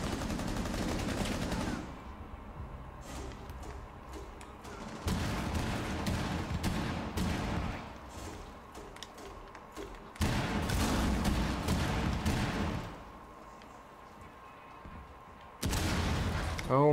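Gunfire in Rainbow Six Siege comes as repeated loud bursts of rapid automatic shots, several separate volleys broken by quieter gaps, close and harsh, with some talking mixed in.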